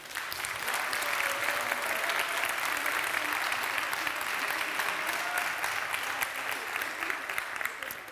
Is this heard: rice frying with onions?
no